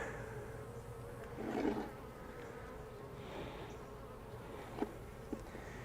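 Honey bees buzz around hive frames during a beekeeping inspection of a tiny swarm, a steady low hum throughout with a louder close pass near the start and a couple of brief sharp clicks later.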